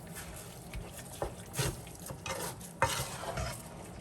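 A chicken marinade for Panamanian arroz con pollo is stirred by hand, giving soft, wet sloshing and a few light clinks against the bowl at moderate volume, with no voices.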